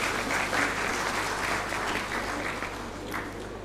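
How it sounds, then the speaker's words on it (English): A conference audience gives sustained, even applause for a panelist, a steady crowd clapping that fades slightly toward the end. "Please give him a big round of applause"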